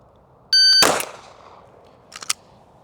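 Two pistol shots fired in quick succession during a grip drill, a sharp crack with a metallic ring, followed a moment later by a couple of faint clinks.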